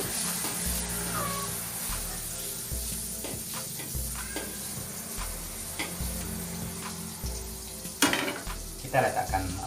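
Martabak telur, an egg-filled bread, fries in a pan in a home kitchen with a steady, close sizzle, broken by a few sharp clinks and scrapes of a utensil toward the end.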